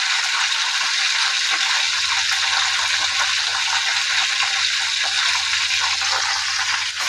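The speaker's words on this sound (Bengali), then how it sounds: "এই যে মুরগি ভাজতেছি" Chicken pieces fry in a pan for a roast dish, giving a loud, steady hiss and sizzle that runs unbroken throughout, with a faint low hum beneath.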